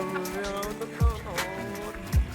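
Car driven in the survival video game SCUM, a steady droning engine with shifting tones and a couple of heavy thumps, heard under people talking.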